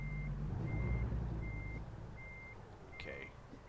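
A truck's reversing alarm beeps steadily at even intervals while backing a trailer off grass in American Truck Simulator, mid-loud over a low engine rumble, followed by a brief hiss.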